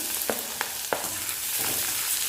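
Green chillies and onions sauté in a hot pan for a cabbage stir-fry, a steady close sizzle broken by a few sharp spatula scrapes against the metal.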